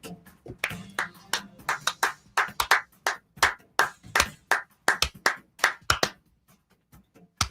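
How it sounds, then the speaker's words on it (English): A person in a sports talk radio studio gives slow, steady hand claps, about twenty sharp, evenly spaced claps close to the microphone, with little talk. "it's not an enthusiastic enough clap over there."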